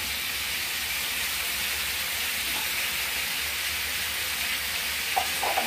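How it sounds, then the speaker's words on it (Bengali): Potatoes for aloo dum fry in a pan with a constant, steady hiss and sizzle, close and even throughout, with a few faint clinks near the end. "আলুটা আরেকটু ভালো করে ভেজে নিই"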